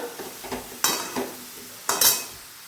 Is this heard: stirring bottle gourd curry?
yes